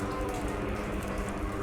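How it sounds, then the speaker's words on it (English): Rain falls indoors inside a dark theme park attraction, a dense, continuous hiss of drops close by that stays even throughout the short stretch, with no voices. "It's raining now inside."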